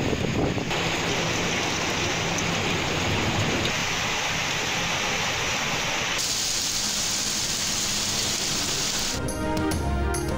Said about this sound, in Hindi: इस्लामाबाद और पंजाब के मुख्तलिफ शहरों में मूसलाधार बारिश।